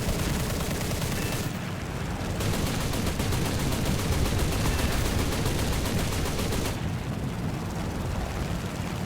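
Aircraft cannons in War Thunder plane combat fire in long dense bursts of rapid loud shots, with brief pauses where the engine drone shows through.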